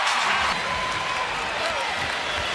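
Arena crowd cheers and applauds loudly and steadily at a Chicago Bulls versus Cleveland Cavaliers NBA preseason basketball game, a dense roar of many voices with some commentary mixed in.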